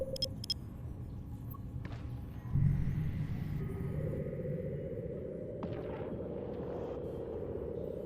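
A spaceship's warp drive engages in EVE Online: a low rumble swells suddenly, then a steady droning hum with a faint high whine holds and builds, fairly quiet and without speech.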